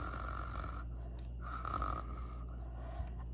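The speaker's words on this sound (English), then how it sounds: "She heard little boy snoring. She heard the cat snoring." Steady snoring with slow, rhythmic breaths, a low rumble rising and falling over a constant background hum; no talking.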